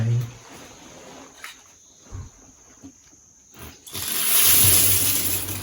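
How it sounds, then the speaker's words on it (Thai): A shower head at a bathing spot in Doi Phu Kha National Park starts spraying at about four seconds, a loud steady hiss of running water after quiet rustling and faint sounds. "น้ำไหลดีนะครับ ไหลแรงเลย"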